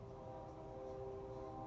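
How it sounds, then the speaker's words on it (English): A train passes in the distance near a Cadillac with mirror-finish hubcaps, a steady low rumble with sustained tonal hums running evenly and faintly throughout, with no talking. "You can hear the train in the background."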